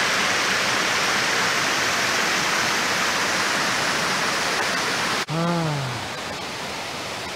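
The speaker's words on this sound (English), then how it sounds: "This is waterfall number two." A steady, loud roar of a waterfall on the river Kasia fills the whole clip, swollen with winter water and constant throughout, with a brief sharp interruption just past the five-second mark.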